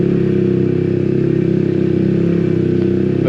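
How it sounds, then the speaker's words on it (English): Loud exhaust of a Yamaha XSR 125 motorcycle pulling over cobblestones, a pulsing, near engine drone with a slight clattering edge as it accelerates, no voices. "Oh, that exhaust's loud."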